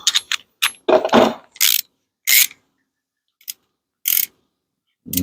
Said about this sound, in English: Can I have another ratchet because this one keeps slipping?